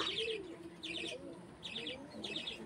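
Pigeons coo softly in repeated low rolling calls, with bursts of higher chirping at regular intervals, fairly close but quiet amid the background murmur of a pigeon sale.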